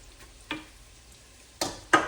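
Cooked bacon goes back into a pot of softened vegetables and potatoes, bringing a low background simmer broken by three sharp spoon clanks and scrapes against the pot.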